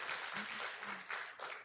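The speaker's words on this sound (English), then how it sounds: "you can clap for him" An audience at an adult brown bag lecture series in Alabama gives a short burst of clapping, a moderately loud, close patter of many hands with a faint voice briefly audible beneath it.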